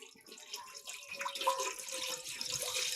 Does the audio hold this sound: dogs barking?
no